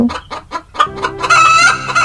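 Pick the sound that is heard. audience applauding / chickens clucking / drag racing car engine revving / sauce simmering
chickens clucking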